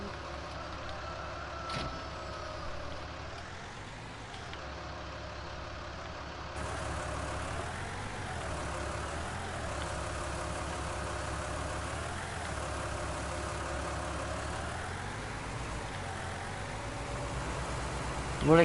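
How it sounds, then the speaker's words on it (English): A medium-sized tractor engine idles in Farming Simulator 19, a steady low rumble that rises and falls slightly in slow waves throughout, with a faint voice at times underneath. "it's a medium-sized tractor. It can get the job done."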